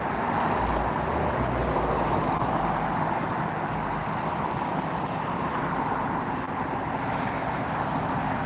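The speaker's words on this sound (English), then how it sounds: "Qantas A380 taxiing out for a" A Qantas A380 airliner taxiing at LAX airport, a steady broad engine roar and rumble that holds evenly throughout at moderate distance, with no pauses.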